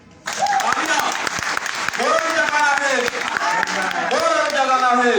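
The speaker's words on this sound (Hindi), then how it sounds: "ज्यादा देर करोगे तो नहीं समझ में आया तो ताली क्यों नहीं बजाए?" Sustained audience applause at a talk on Magnet Gold investment in India fills the clip, dense and steady from start to finish, with a voice speaking in Hindi over the clapping.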